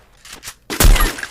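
A Barrett sniper rifle fires in the Free Fire battle royale game: faint mechanical clicks first, then one sharp, loud blast with a booming low tail, alone without talk.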